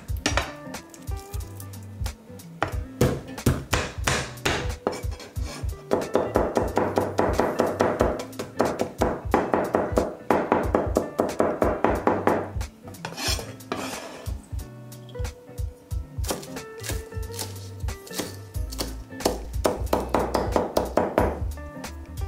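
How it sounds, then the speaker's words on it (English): A knife mincing garlic, fresh chilies and green onion on a cutting board: rapid, loud, close chopping taps in quick bursts with short pauses between runs, no talking. "Next, we'll mince 1 to 2 cloves of garlic,"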